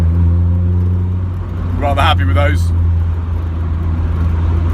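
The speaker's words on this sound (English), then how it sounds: "Little spin round the block with the new coilovers" A Mazda MX-5 fitted with new coilovers drives around the block, its engine a steady droning hum heard from inside the car throughout, with a brief spoken comment partway through.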